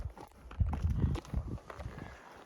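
Horse hooves clip-clop on a dirt trail during a horseback pack trip at Indian Creek, an uneven run of soft, close thuds and knocks as the horses climb uphill, without speech.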